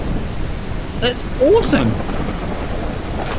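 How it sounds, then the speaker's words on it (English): Heavy rain and rumbling thunder in the VR game Kayak VR: Mirage, with rain pattering on a kayak: a steady dense hiss of rainfall with a swelling rumble, while someone speaks briefly over it. "You see the rain bouncing off the kayak."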